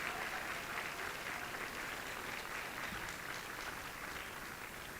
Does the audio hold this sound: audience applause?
yes